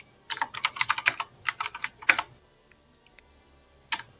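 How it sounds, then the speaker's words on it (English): Computer keyboard typed on aggressively, rapid bursts of clattering keystrokes in quick clusters with short pauses, then a final lone burst, close and fairly quiet with no talk. "it sounds like you're aggressively typing out some twit longer thing"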